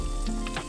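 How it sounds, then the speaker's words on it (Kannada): Tempering spices sizzle in hot oil while cooking avarekayi palya, a steady close crackling fry with brief brighter pops, no talk over it. "ನಾನಿವಾಗ ಒಗ್ಗರಣೆ ಹಾಕ್ಕೊತಾ ಇದ್ದೀನಿ"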